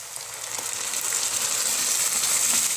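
Ground onion and tomato paste poured into a hot pan, hissing and sizzling steadily and loudly, the frying noise building slightly and holding continuous throughout with no talk.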